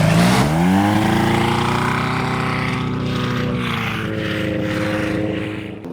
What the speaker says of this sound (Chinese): 现在飞机滑入左侧跑道头，从左往右起飞，这样就是逆风的。